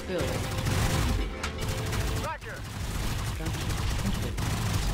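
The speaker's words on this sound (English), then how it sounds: "why not set up an additional machine gun as well down here?" Machine guns fire in a sci-fi tower defense strategy game, a dense, continuous rattle of rapid gunshots with sharp bursts throughout, loud and close, with a brief dip midway.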